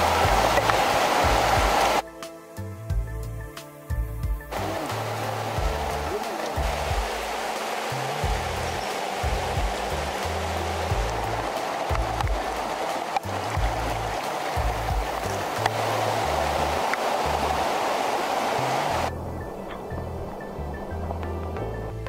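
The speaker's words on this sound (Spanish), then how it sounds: "Rodeado de los sonidos de la cascada y voces del bosque" Steady rushing water from a forest waterfall and stream fills the scene, broad and continuous, with sporadic low thumps and bumps nearby.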